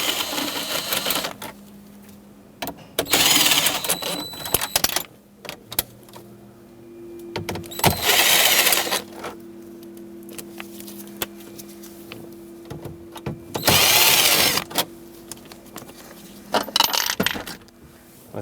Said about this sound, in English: Remove the 4 screws that hold on the radio. Now this is an aftermarket radio for me, so I have 4 Phillips heads.